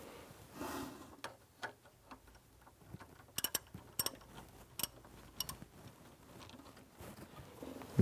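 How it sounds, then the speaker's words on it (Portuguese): Sparse metallic clicks and ratcheting taps while the hose fixing bolt is loosened on a Volkswagen Amarok 2.0 TDI Biturbo engine, faint and close, in irregular bursts over a low background hum. "iremos soltar o parafuso de fixação dessa mangueira para conseguir retirar a capa"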